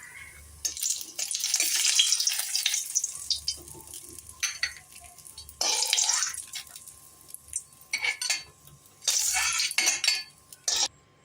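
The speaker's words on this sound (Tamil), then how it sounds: "இப்போ நம்ம 1-2 உடச்சி வச்சுருக்கேன் முந்திரி பருப்பு. அதை பொரித்து எடுத்துக்குவோம்." Broken cashew nuts fry in ghee over low heat, giving intermittent bursts of sizzling mixed with stirring scrapes, with quieter gaps between them and no voices.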